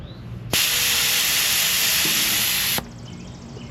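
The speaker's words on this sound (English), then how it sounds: "then we will use the new compressor to air the tires back up." An air compressor inflates the tires of a 2.5-generation Toyota Tundra. A steady, loud hiss of rushing air starts abruptly, holds for about two seconds, then cuts off cleanly, with no talk.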